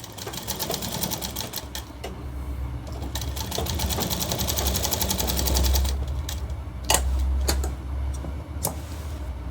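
A sewing machine stitches a shirt collar, its needle rattling in a fast, steady close-up run with a few sharp clicks as the fabric is handled.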